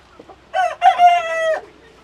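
A single Sonali rooster crows once, loud and close, a rising call held for about a second before trailing off, with quiet surroundings.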